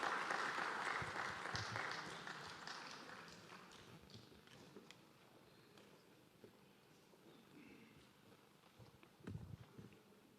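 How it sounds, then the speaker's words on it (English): Audience applause at the Uganda National Oil and Gas Symposium 2021 as a panel walks off stage, a dense burst of clapping that fades into quieter scattered claps and room noise, with a few louder hand claps near the end. "As they walk down, please give them another big round of applause."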